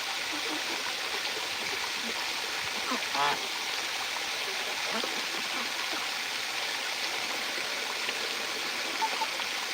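Water pours steadily into a drinking container for farm animals, a constant close rushing hiss with faint gurgles and a few soft background sounds throughout.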